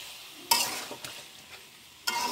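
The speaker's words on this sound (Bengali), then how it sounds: "এখন দেখেন ভালো মতো কষিয়ে নেব।" Fish frying in a pan with whole spices such as cardamom, bay leaf and cumin alongside onion, garlic and ginger paste, a steady sizzle broken by sharp, loud stirring scrapes at the start and end, with softer scrapes in between.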